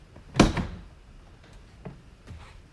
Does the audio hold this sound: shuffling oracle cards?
no